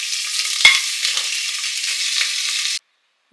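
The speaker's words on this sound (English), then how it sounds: "Oil is hot, so I'm going to put this here meat in the pressure cooker." Meat sizzling in hot coconut oil in a pressure cooker for a gut-healing soup, with a bright, steady hiss after a sharp clunk as the meat goes in, then cutting off abruptly into silence.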